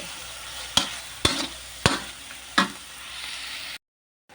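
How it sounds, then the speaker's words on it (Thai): Pork stir-fried with red curry paste in a pan for a morning glory curry, giving a sizzling backdrop with four sharp scraping spatula strokes at a steady pace, then a cut to silence near the end. "ผัดลงไปกับพริกแกงนะคะเพื่อน ผัดพริกเท้าให้ทั่วนะคะ ผัดจนกว่าหมูจะสุกนะคะ"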